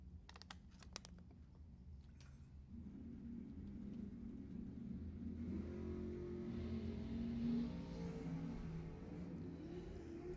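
Drag racing cars at Lebanon Valley Dragway, a Dodge Daytona and a dragster launching, as a distant engine rumble builds into a steady roaring drone, with sharp clicks at the start.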